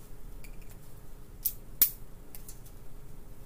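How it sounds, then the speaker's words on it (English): Scissors snip once or twice at close range in a quiet kitchen, a couple of sharp clicks standing out over faint room noise, with no one speaking. "My scissors."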